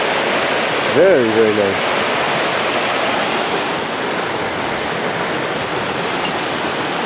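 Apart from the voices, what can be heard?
waterfall on a mountain stream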